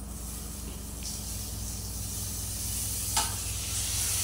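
Tomatoes fry in hot oil for an egg and dried fish curry, a loud, steady sizzle running throughout with a brief scrape of stirring near the end.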